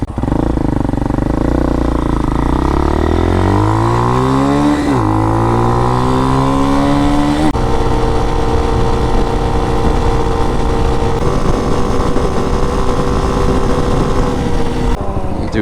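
A Hawk DLX motorcycle engine with Delphi fuel injection runs loud and close, its pitch climbing and wavering early on before settling into a steady, rough drone.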